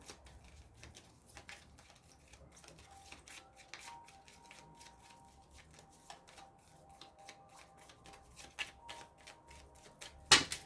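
Oracle cards shuffled by hand during a tarot-style reading, a soft, close run of quick papery riffles and flicks that stays faint and steady, with a slightly louder burst at the end.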